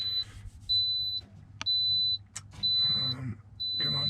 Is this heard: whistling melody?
no